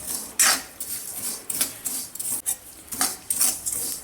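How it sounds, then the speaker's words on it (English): Oats, poha, sesame and other seeds dry roasting in a pan, with a string of metallic scrapes and clinks as a spatula keeps them moving, irregular and close, with no talk. "We're dry roasting these just till the sesame pops."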